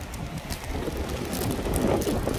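Wind by the sea on a gusty day buffets the microphone with a steady, broadband rumble and hiss that swells slightly toward the end, with no voices.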